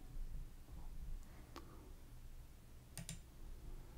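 A single soft mouse click on an Autofill button, then another faint double click, each brief and quiet against a low background hiss.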